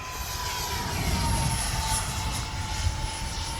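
An X-Fly F-22 Raptor twin 40mm electric ducted-fan RC jet flying at full speed with the wind, a steady high whine and rushing roar holding fairly level throughout, moderately distant, with no talk.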